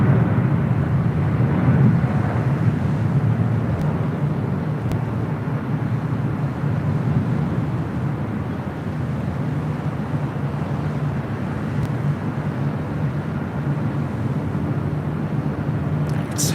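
An Air New Zealand Boeing 777 at LAX, bound for Auckland, produces a continuous low jet rumble heard from a distance, steady throughout with slight swells, under faint background airport noise.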